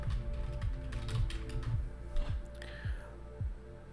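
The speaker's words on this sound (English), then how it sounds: "You have to type in your email address." Typing an email address on a computer keyboard, a quick run of soft, close key clicks with a steady low hum beneath.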